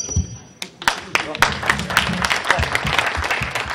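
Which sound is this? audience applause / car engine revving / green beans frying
audience applause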